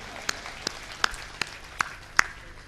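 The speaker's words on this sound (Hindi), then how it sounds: "इस बात के लिए पूरा सदन एक बार जोरदार तालियां बजाए" Six slow, evenly spaced claps ring out in a hall during a comedic poetry show, crisp and distinct over a quiet background murmur.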